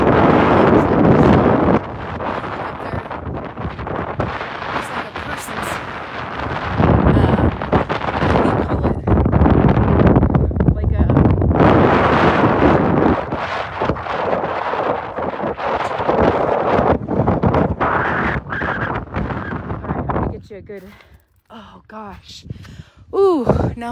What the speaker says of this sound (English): That was so cold and windy.